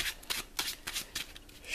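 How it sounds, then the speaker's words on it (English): A deck of playing cards from the Marvel Champions card game is shuffled by hand, producing quick riffling bursts and soft slaps in an irregular rhythm, quiet and close, with no voices. "shuffle the hero deck one last time"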